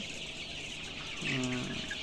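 Sonali chickens cluck in a poultry shed, a short burst of throaty clucks rising near the end over a steady background hum, with no talking.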